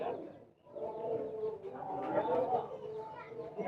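An imported Pakistani high-flying pigeon coos softly in low, throaty phrases while people talk nearby throughout.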